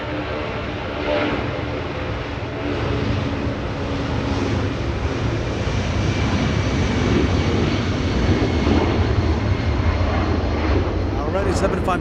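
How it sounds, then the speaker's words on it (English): A Boeing 757 jet lifting off at Los Angeles International Airport makes a broad, steady engine roar that builds slightly and holds loud throughout, with faint rumble underneath. "Alrighty, 757 lifting off."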